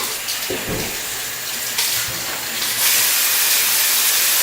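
A shaving brush is rinsed under a running tap, with a steady hissing rush of water that swells slightly louder toward the end.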